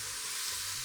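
80-20 ground beef sizzles in a pan with taco seasoning, a steady, dense frying hiss heard up close with nothing else over it.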